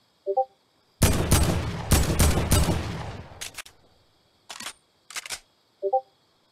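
Fortnite gunfire rattles in several close bursts, a long rapid volley first and then shorter clusters of shots separated by silence, with small electronic chirps at the start and end.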